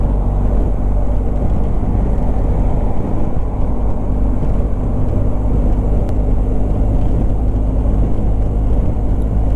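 A BMW R1250GSA Rallye motorcycle cruises at speed in fifth gear with strong wind, a steady low engine rumble buried under heavy, continuous wind buffeting against the microphone, no voices.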